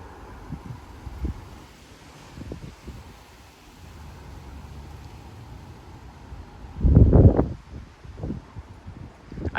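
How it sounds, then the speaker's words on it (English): Strong wind gusts, around 40 to 50 mph, blow through backyard trees in Frisco, Texas, bringing soft rustling and rumbling surges, with one heavy gust buffeting the microphone near the end. "But those were some good gusts."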